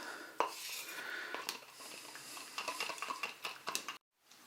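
A liquid glue mixture for ballasting a model railway layout is stirred in a small container, with a run of light, close tapping and scraping clicks that stops abruptly at the end.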